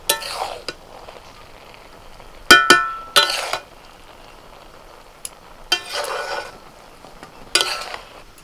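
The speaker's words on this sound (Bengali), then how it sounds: "ভাতগুলো একটু ওপর নিচে নাড়াচাড়া করে দিলাম" Pea pulao rice being stirred in a pot, with several scraping, clinking strokes of a spoon against the metal separated by quiet pauses, close and intermittent, no talking.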